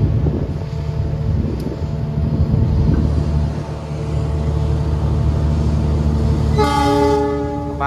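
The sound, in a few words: tank train approaching with horn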